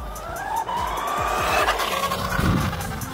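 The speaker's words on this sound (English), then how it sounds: "The first thing that catches the eye is the roar of the engine, which matches the speed of the vehicle." Remote-controlled toy Batmobile with a smoke effect, its motor whining loudly and continuously with rising and falling pitch, and squealing, skidding tire noises partway through.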